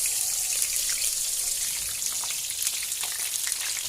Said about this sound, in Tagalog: So, magigisa na tayo ng mga ricado para sa tinulang.